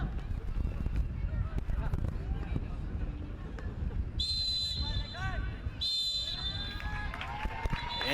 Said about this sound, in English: The referee has blown his whistle, and this game now ends